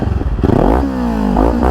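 A 2022 Kawasaki Ninja 400 fitted with an Akrapovic carbon fiber slip-on exhaust revs close up, a burbling idle rising into a loud, raspy climb, falling back, then swelling again.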